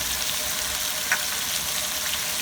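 Chicken frying in a karahi gives off a steady, even sizzle as onions go in, with a brief clink partway through and no talking.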